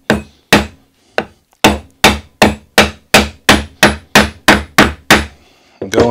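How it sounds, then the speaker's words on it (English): A hammer strikes a wooden block on a trailer axle bearing about fourteen times, loud sharp thwacks in a steady rhythm with brief ringing decay after each blow. "You can try hammering it with a hammer."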